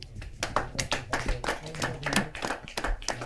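An audience at a Hindi kavi sammelan poetry gathering claps close by, with distinct, somewhat uneven individual claps standing out in a short, lively burst of applause during an award presentation.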